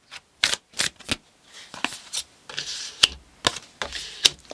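Tarot cards being shuffled close up: several crisp riffles and snaps in quick bursts, separated by brief quiet gaps, with a sharp slap of the deck near the end.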